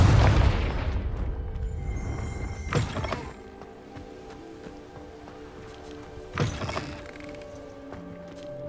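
A Confringo fire spell cast in Hogwarts Legacy lets off a loud, deep boom at the start that rumbles and fades, followed by two fainter crackling bursts further along.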